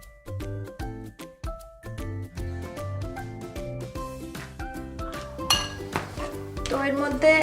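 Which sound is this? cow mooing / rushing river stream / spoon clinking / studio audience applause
spoon clinking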